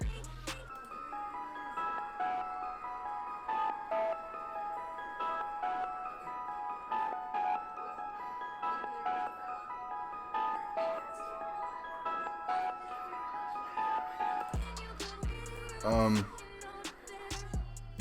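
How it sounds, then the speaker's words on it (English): The Helsinki preset from the Massive synth plays a soft, sine-like melodic line with a steady beat underneath, the tone changing near the end, moderately loud and without talk. "It's the Helsinki preset. It's one of the default presets that you get with massive."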